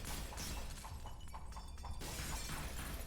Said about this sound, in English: And the glass is down already.